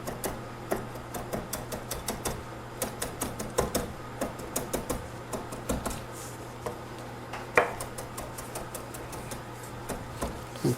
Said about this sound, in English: I'm just gonna cut up a little bit of parsley